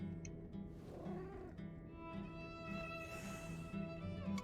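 A cat meows in the video game Lies of P, with a few soft, drawn-out cries set against a steady low hum of game music and ambience.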